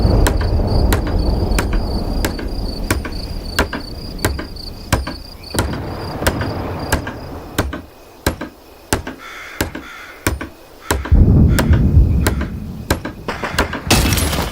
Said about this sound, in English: Now I gotta hammer it.